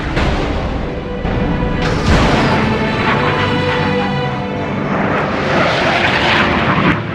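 A fixed-wing airplane roars loud and close, a broad continuous engine rumble with a faint rising whistle, heard alone for about seven seconds.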